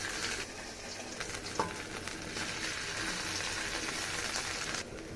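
Boiled potatoes with slit green chilies and black cumin stir-fried in a pan, giving a continuous soft hissing sizzle with faint stirring scrapes, alone and fairly quiet.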